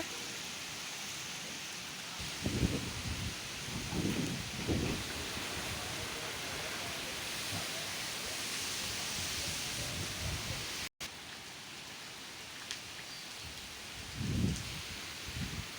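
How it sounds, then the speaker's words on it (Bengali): Steady rain falling over a village during a long storm: a soft, even hiss throughout, with a few low rumbling swells, faint and distant overall, with no voices. "এখনও বৃষ্টি হচ্ছেই"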